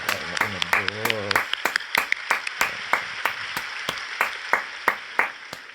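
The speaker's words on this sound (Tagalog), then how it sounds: "itaas uli ang kamay at pumalakpak ng mas malakas" Congregation at a Nazareno fiesta clapping in a steady rhythm, sharp repeated claps under a preacher's voice at the start, then continuing alone at a regular pace.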